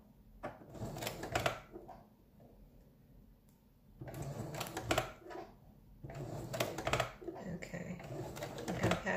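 A sewing machine stitches through a thick paper zipper pouch in short bursts, its rapid needle clatter starting and stopping with pauses between runs, close and moderately loud.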